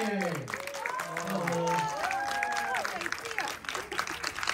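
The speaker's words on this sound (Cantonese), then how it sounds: "俾掌聲我哋創作團隊，我哋嘅導演，同埋呢班嘅演員" An audience at a Hong Kong film thank-you screening claps for the creative team, director and cast, with a steady patter of applause mixed with cheering and voices from the crowd.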